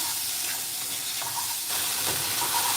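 Vegetarian noodles being stir-fried with sauces in a hot pan, a steady loud sizzle and hiss with brief stirring scrapes, close and continuous, no voices.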